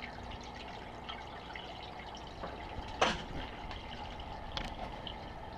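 Water gently trickles and drips in a fish tank set inside a Chinese water dragon enclosure, a soft steady background wash with a small splash partway through.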